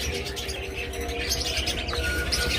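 Pet lovebirds, cockatiels and budgerigars chirping softly, a scatter of light high tweets and calls over a low steady background hum, fairly faint and close.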